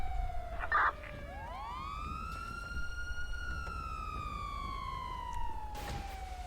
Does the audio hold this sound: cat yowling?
no